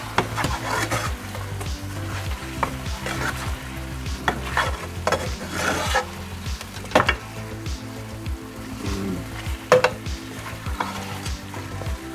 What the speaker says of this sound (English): Just gonna kind of stir it all.